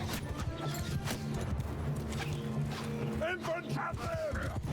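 Horses gallop across a battlefield in Mount & Blade II: Bannerlord, a dense continuous drumming of hooves under battle noise and game music, with someone talking over it.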